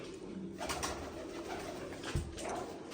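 Pigeons coo in soft, repeated throaty bursts against a steady background hum, with a brief low thump partway through.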